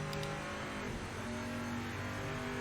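N-GT race car engine in Project Motor Racing at Bathurst, a loud, sustained, strained drone close up, with a steady pitched whine and no voices over it.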